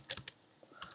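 Typing on a computer keyboard: a few quick key clicks in a short burst, then a brief pause and another click, close and fairly quiet with no talk.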